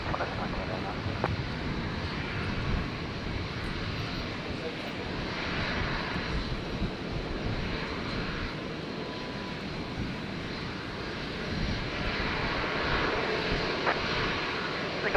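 Qantas airliner on its takeoff roll from runway 01 right at Brisbane airport, a steady broadband jet engine roar heard from a distance, holding level for the whole stretch with slight swells, with radio-style voices faintly present.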